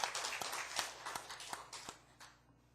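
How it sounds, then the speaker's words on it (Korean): A church congregation claps together for a few seconds, a quiet burst of applause that fades out toward the end. "우리 한 박수 한번 칩시다"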